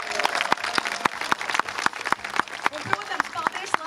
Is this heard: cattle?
no